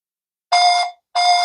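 Star Trek communicator toy sounding its repeating beep: two loud, identical electronic chirps about half a second long, separated by a short gap, with no talk.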